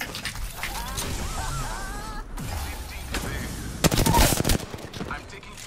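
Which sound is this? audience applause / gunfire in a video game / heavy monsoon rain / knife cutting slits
gunfire in a video game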